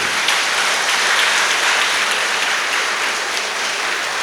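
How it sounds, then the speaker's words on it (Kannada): A large audience at a school event honoring teachers claps loudly and continuously, a dense, even roar of hands that holds steady throughout without voices. "ಇಷ್ಟು ಚಪ್ಪಾಳೆ ಸದ್ದು ಕೇಳಿದ್ರಲ್ಲ"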